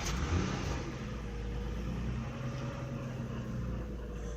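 An Infiniti I35 car engine with suspected low compression held at a steady elevated rev, a continuous close droning hum with a slight rise at the start and a constant tone throughout.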